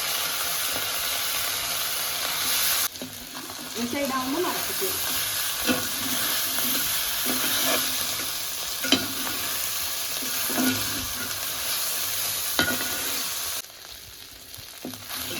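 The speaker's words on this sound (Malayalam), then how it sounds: "ഇതിൽ ബാക്കി വന്ന വെളിച്ചെണ്ണയിൽ തന്നെ നമ്മൾ വേവിച്ച് വെച്ചിരിക്കുന്ന ചിക്കൻ ഒന്ന് വറുത്തെടുക്കാം." Boiled chicken fries in leftover coconut oil for a traditional chicken roast, giving a steady close sizzle broken by scraping stirs and clinks of a utensil, with a brief spoken remark partway through.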